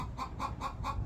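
A hen clucks after laying an egg, heard near a home workshop as four evenly spaced, fairly loud clucks in quick rhythmic succession.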